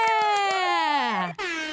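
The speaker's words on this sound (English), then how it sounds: "I've never had an air horn follow my name before." Loud air horn sound effect blasting right after a name is announced on a show, its blaring tone holding steady and sliding down in pitch before a brief cutoff and a second burst, with cheering under it.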